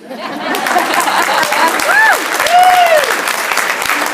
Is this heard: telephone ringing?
no